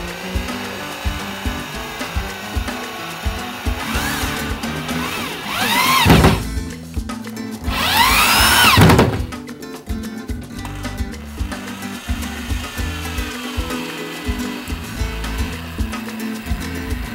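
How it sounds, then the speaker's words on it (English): A power drill or driver fastens shelves to plywood with small L brackets, two loud whining bursts of rising pitch standing out against quieter handling and tool clatter, no voices. "I want to fasten these shelves to my plywood, and I'm using a little L bracket right here"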